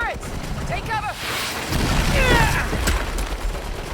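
Turret gunfire in the Saints Row video game booms and rattles in dense, overlapping bursts, with shouted voices over the chaotic noise.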